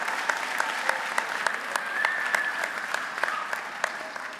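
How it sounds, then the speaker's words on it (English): Audience applauding at a school graduation ceremony in 2024, sustained clapping in a large room with sharp individual claps standing out over the steady roar. "Give them a big round of applause."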